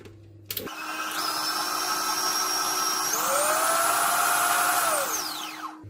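An electric hand mixer whirs steadily through sticky toffee pudding batter just after eggs go in, starting abruptly, then shifting to a higher, strained pitch before winding down near the end.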